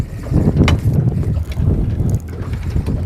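Steady wind gusting around a fishing boat near a river narrows, a loud continuous rumble and buffeting against the microphone with no talk.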